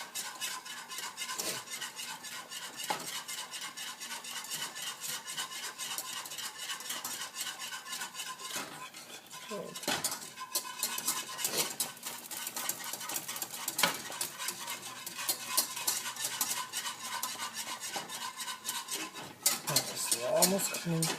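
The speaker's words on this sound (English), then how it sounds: "Just keep on whisking it" Gujarati kadhi soup being whisked in a pot on the stove, a quiet, continuous metallic clatter of the whisk against the pot with quick repeated strokes, under a faint sizzle and with no talk.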